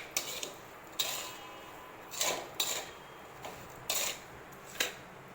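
A spatula stirs melting sugar and grated coconut in a pan, making about six sharp metallic scrapes and clinks at an uneven, unhurried pace against a quiet background.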